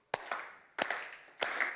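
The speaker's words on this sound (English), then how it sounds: "I'm just going to have you clap with me here for a second" An audience at a developer-community talk on mental health claps in unison with the speaker, giving three sharp, loud group claps spaced evenly apart with a short ringing tail after each.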